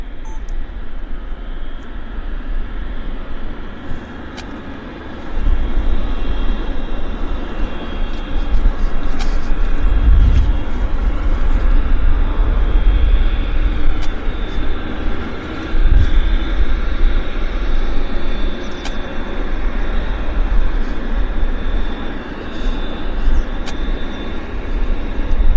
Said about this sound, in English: They're starting engines on the KLM 777. Hear them spooling up.